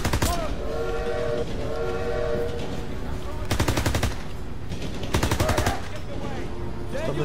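Rapid machine-gun bursts crack over the rumble and clatter of a moving train during a Call of Duty: WWII campaign battle, with shouted voices mixed in and dense repeated volleys toward the end.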